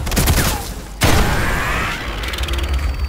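Gunfire and explosive bursts from the Wanted: Weapons of Fate video game, with slow-motion grenade shooting: loud mechanical clatter and a sharp blast at one second, then a sustained rumbling, ratcheting barrage with no talking.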